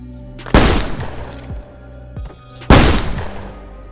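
Two loud, close gunshots in a western film scene, a few seconds apart, each a sharp crack followed by a booming echo that fades, over a low background.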